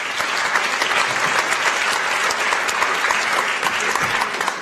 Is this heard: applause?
yes